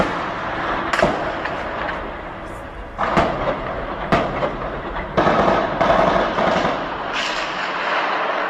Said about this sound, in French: Ce sont des rafales de Kalachnikov dont le quartier Pissevin a été une fois de plus le témoin dans la soirée d'hier.